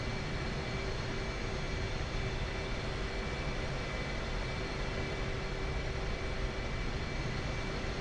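Loud, constant engine roar and whine from an F/A-18C jet taxiing across an airfield in the DCS flight simulator, dense and unbroken with a steady tonal line running through.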